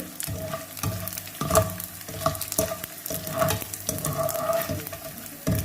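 Edible gum (gond) roasting in a pan for poppy seed laddu, with a spoon stirring and scraping in irregular bursts over a steady soft sizzle, close and moderately loud, no voices.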